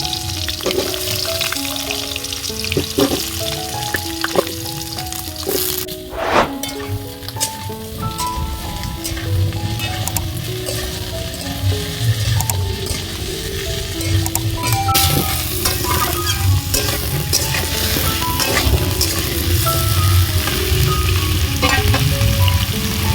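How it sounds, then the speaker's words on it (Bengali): Cut potato and papaya fry in oil in a pan for a mixed-vegetable niramish curry, a loud, continuous sizzle with occasional clacks from a stirring utensil and faint tones in the background. "এখন দিয়ে দেবো কেটে রাখা আলু আর পেঁপে আলু আর পেঁপেটা একটু ভাজতে সময় লাগে"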